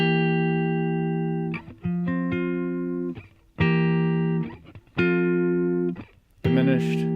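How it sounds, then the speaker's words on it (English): A diminished chord sounds in a series of sustained, ringing strikes separated by short gaps, the last with a brighter, buzzier edge; clear and close with no voices. "diminished chords sound like they want to go someplace else"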